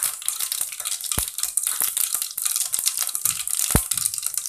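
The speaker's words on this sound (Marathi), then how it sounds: "तर सर्वप्रथम आपण मोहरी तळतळून घ्यायची." Mustard seeds splutter in hot oil in a steel pot, a steady crackling sizzle broken by a few sharp pops.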